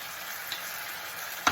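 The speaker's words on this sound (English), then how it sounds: "you can see that sizzling" Chicken sizzles quietly in a hot pan, a soft steady crackle with a couple of small pops.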